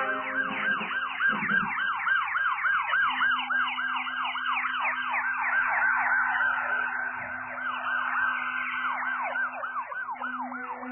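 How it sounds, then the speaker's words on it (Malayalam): An ambulance siren wails continuously, loud and close, its rising and falling pitch cycling rapidly for the whole stretch with a steady low hum underneath. "ആംബുലൻസ് വന്നു."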